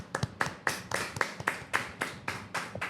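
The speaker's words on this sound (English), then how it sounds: "a round of applause for everyone" A small group or lone participants clap at the close of a medical expert discussion on acute myocardial infarction, about a dozen distinct, fairly regular claps heard close and a bit quiet, with no talking over them.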